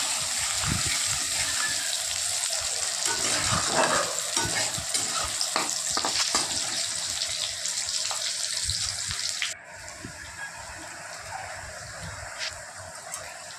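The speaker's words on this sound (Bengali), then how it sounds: "কড়াই দিয়েছি, কালো জিরে, রসুন ফোড়ন আর পেঁয়াজ ফোড়ন দিয়েছি আর শুকনো লঙ্কা। তো এটা ভাজা ভাজা হবে।" Black cumin, garlic, onion and dried chilli fry in a wok with a loud, steady close-up sizzle and occasional stirring scrapes; the frying continues alone and drops slightly in level toward the end.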